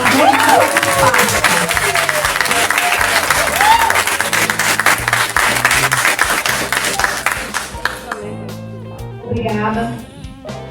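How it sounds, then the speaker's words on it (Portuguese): An audience at a public presentation of a local innovation project breaks into loud, sustained clapping that fades out toward the end. Someone talks over the start, and a brief remark follows as the applause dies away. "Uma salva de palmas para todos nós"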